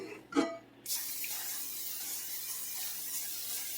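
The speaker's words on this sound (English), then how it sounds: "Spray a little bit of cooking spray in there." A steady hissing of cooking spray into a non-stick skillet begins after a short clatter and keeps going for a few seconds, close and even.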